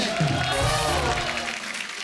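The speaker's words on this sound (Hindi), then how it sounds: "एक बार जोरदार ताली हो जाए" A studio audience at a comedy talk show applauds, a dense wash of clapping and cheering that holds fairly loud before thinning slightly toward the end.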